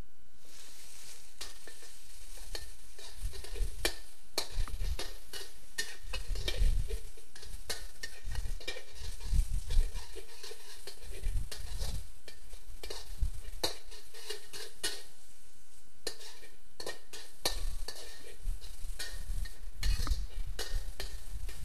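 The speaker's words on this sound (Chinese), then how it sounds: "把绞肉炒熟之后" Ground pork is stir-fried in a wok with garlic-scented oil, sizzling loudly and continuously while a spatula scrapes and clatters against the metal in an uneven rhythm.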